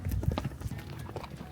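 Horses and mules carrying packs walk over rough ranch terrain in Patagonia, giving a steady near clip-clop of hooves with soft low thuds and no voices.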